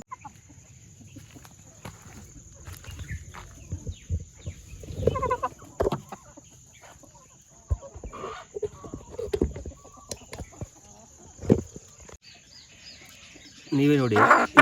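A chicken suffering from an eye disease clucks in short, scattered bursts, some close and loud, over a quiet farmyard background, with a busier cluster of sounds and handling noise right at the end.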